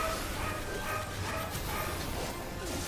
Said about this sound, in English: Yes, my dog likes to bark.